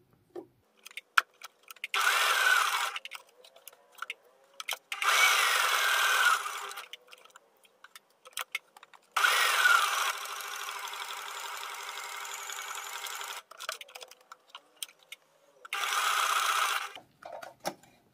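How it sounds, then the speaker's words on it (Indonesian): Sewing machine stitching fabric edges with a zigzag stitch, running in four steady rattling bursts of a few seconds each, separated by quiet pauses with light handling clicks. "Jadi semua pinggiran dijahit terus ya teman-teman"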